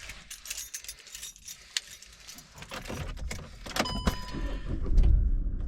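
Keys jangle for a VW Caddy van, metallic clinks amid handling and rustling, then a low engine or electrical hum rises as the van comes on, close and fairly quiet.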